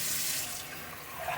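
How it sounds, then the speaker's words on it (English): Tap water streams steadily from a kitchen faucet fitted with a PUR filter, a close, even broadband rush with no talk over it. "So turn the water on"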